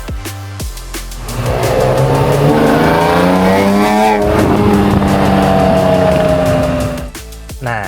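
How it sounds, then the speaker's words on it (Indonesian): A BMW M3 E46 coupe engine revs hard and close up, its pitch climbing and holding in a loud, sustained roar for several seconds before it drops back. "Yuk kita ajak kalian geber-geber virtual"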